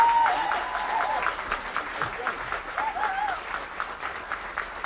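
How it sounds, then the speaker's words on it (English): An interview audience applauds with a dense, steady wash of clapping that fades slightly toward the end, with a few high voices or whistles rising over it. "Let's give them a big round of applause for Facebook."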